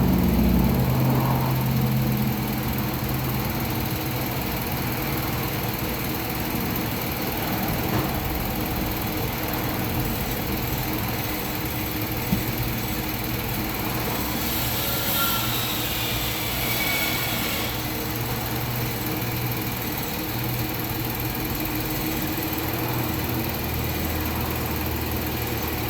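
A vehicle engine idles steadily and close by during power steering fluid maintenance, with a faint whine rising briefly midway as the steering wheel turns back and forth.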